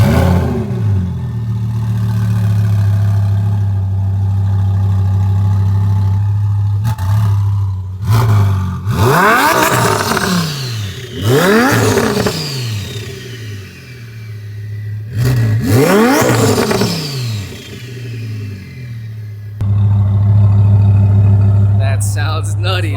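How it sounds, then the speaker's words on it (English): A twin-turbo V10 Audi R8 idles with a deep steady hum, then gets several sharp revs that climb and fall away, loud and close, with a short break before the idle resumes. "get some sound clips with the V10"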